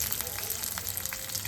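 Curry leaves sizzle in hot oil for lemon rice, a steady, faint frying hiss that carries on throughout with small crackles and no voices.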